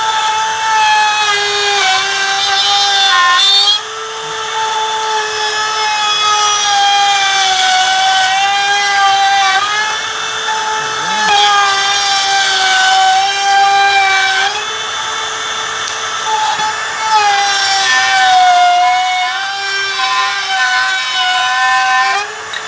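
A power tool whines at a high, steady pitch while rounding over a hand hole in a wooden bench. Three sustained cuts run close and loud, with brief dips between passes.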